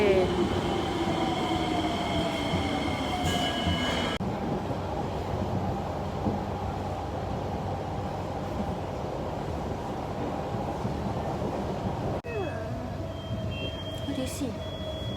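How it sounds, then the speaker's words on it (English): A passing train gives a steady loud rumble of wheels on rails for the whole stretch, with brief squeals and a shift in tone partway through. Voices are faint under the noise. "Where's the train? Where's the train?"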